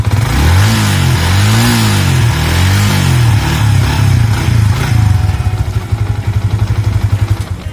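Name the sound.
Yamaha New Vixion Lightning motorcycle engine idling and revving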